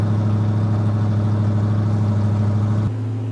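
A Dodge Charger's carbureted engine idles steadily at close range with a deep, even rumble, then drops to a lower, quieter idle near the end.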